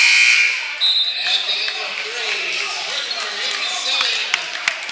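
A loud buzzer blares at the start of a basketball game, then fades under crowd noise and squeaking shoes, with a few sharp thuds near the end.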